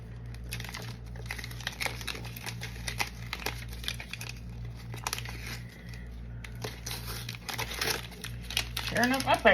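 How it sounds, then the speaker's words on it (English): Sheets of paper torn and crinkled by hand at a resin-crafting bench, a run of close, dry rips and crackles in uneven bursts, with a voice talking intermittently over them. "Tearing up my paper."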